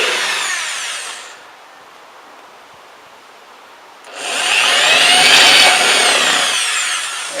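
A power drill fitted with a 5.5 mm bit bores through a pannier, loud high whining in two bursts separated by a quieter pause, with no talk.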